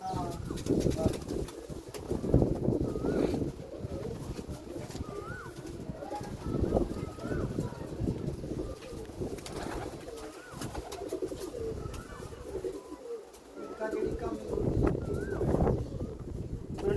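Prize-winning racing pigeons coo continuously at close range, low rolling calls layered under intermittent talking.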